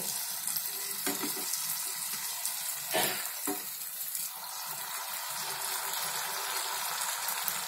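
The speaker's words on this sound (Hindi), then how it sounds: "अभी मैं इसको करची लेके पलटी मार लूंगी अच्छे से" Atta malpua fries in a deep kadhai, a dense continuous sizzle of hot oil with a few sharp ladle knocks as it is turned, with no talk.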